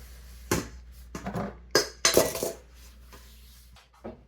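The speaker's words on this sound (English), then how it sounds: "I just have it on low heat and I'm just stirring it occasionally" Chocolate chips melting in a pot over low heat are stirred with a utensil, producing a handful of irregular close scrapes and clinks against the pot with quiet gaps between them.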